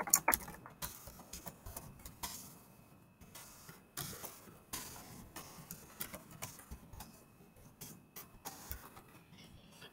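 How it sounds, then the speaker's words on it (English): Slow, uneven typing on a computer keyboard: scattered quiet key clicks and taps, spaced irregularly, close and faint with no voices. "I'm just typing slowly to, not get something wrong."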